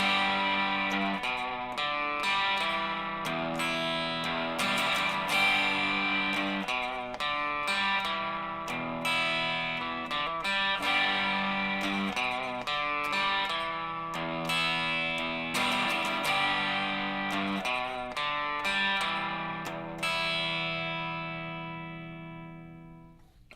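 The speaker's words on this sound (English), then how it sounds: "So I'll turn on my distortion pedal and play that for you." A distorted electric guitar plays a steady, chugging riff of repeated chords, loud and close, running continuously before ringing out at the end.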